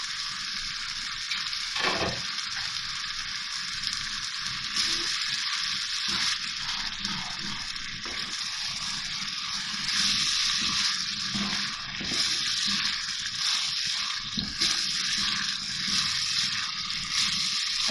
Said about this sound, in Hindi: अब मैं इसकी थोड़ी सी भुनाई करती हूँ।